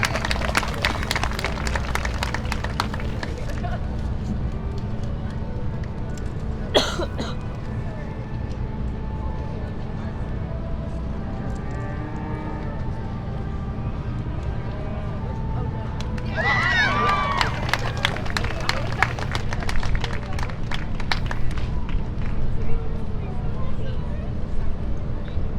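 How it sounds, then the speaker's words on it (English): Audience applause breaks out at a junior heifer show, scattered clapping early, then a fuller burst of claps in the arena later, under a steady hum with an announcer speaking. "Give them a nice round of applause."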